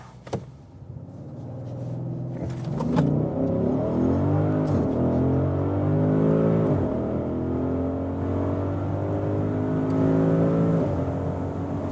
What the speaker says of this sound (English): We start with the SQ8 here on the test track, and let's just floor it out acceleration wise